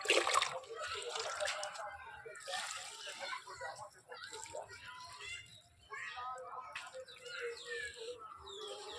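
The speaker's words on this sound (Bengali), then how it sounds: "একটু বেশি বেশি করে পানি দিয়ে দিই" A plant is watered, with uneven splashing and sloshing that comes and goes. Voices talk over it throughout.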